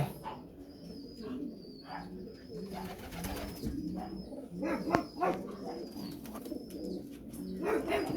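Hungarian Giant pigeons coo repeatedly in low, throaty bursts over a busy background of birds and occasional barks, with scattered higher chirps throughout.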